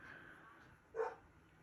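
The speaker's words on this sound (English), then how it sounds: "my dog's barking." A single short bark from a dog somewhere in a room, faint and somewhat muffled, rising briefly above a quiet background hum.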